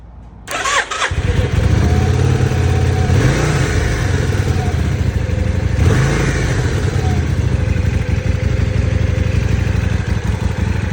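A 1994 Yamaha Virago XV535 motorcycle cranks and fires up within a second, then its engine runs loud and close, rising in a couple of revs before settling into a steady rumbling idle, with no voices.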